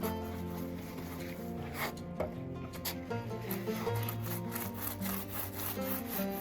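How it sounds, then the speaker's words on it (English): Small paint roller spreading exterior masonry paint over tile on a patio, a steady close rasping, rubbing scrape with a rhythmic back-and-forth texture running throughout, no talking. "now we're using some exterior masonry paint to cover up the tile"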